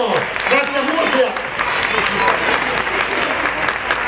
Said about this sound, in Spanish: fuerte aplauso para nuestra amiga y colaboradora del cumpleaños.